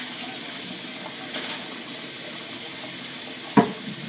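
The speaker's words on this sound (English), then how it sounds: "Take some nice cool water and wash out this cauliflower." Cool tap water runs steadily into a sink while a head of cauliflower is rinsed under it, a continuous close splashing hiss with a brief sharper knock near the end.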